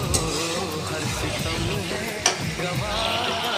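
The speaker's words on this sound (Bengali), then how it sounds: "এখন ধুন্দুলগুলো আমি দিয়ে দিয়েছি" Ridge gourd frying with sautéed potatoes in a pan, a dense continuous sizzle with a couple of sharp clinks of a utensil, close and steady over a few seconds.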